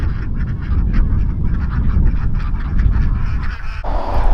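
A flock of farm ducks, mostly drakes with several females, quacks and honks continuously up close, a loud, busy chorus of overlapping calls with no pauses.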